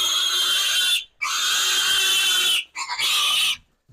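A piglet shrieks in loud, piercing squeals during weaning and deworming on a farm: three long, shrill bursts broken by brief gasping pauses, close and alone.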